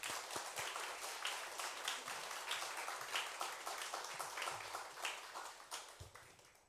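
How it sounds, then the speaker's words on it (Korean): A church congregation at Sunday worship applauds to welcome a visiting pastor, a fairly quiet, steady patter of clapping from many hands throughout. "우리 목사님 박수로 환영하면서 귀한 말씀 듣겠습니다."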